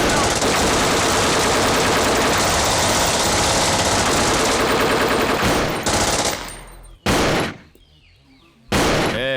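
Sustained, loud gunfire rattles in rapid bursts in a Hindi-dubbed South Indian action film, close and dense for several seconds, then cuts to a few separate blasts with short gaps, with voices mixed in.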